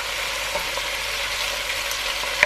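Chicken pieces for tinola sizzle and crackle steadily as they brown in a hot pan, a dense, even frying hiss with no talk.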